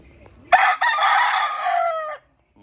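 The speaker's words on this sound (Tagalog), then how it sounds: "ito po yung mga manok dito" A single loud, close rooster crow from a Lemon Sweater gamefowl stag on a farm in Pangasinan: a sharp onset, a brief break, then a long sustained harmonic call that trails off after about two seconds, with faint murmurs before it.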